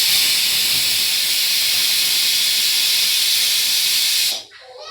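Pressure cooker on the stove cooking potato curry, releasing a loud, steady high hiss of steam that runs several seconds and then cuts off abruptly, leaving quieter room sound.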